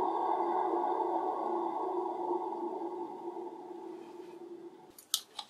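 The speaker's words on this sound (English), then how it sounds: "The bearings make a bit of noise," An old lathe fitted with a new motor and VFD runs with a steady tonal hum from its noisy bearings, fading slightly before a few sharp clicks near the end.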